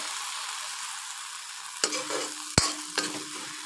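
Taro vegetable curry simmers and sizzles in a pan after a little water is added. A steady hiss is broken by a few sharp knocks of stirring near the end.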